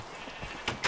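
Minecraft sheep in a farm pen give two quick, faint bleats near the end of a brief, quiet stretch of game ambience.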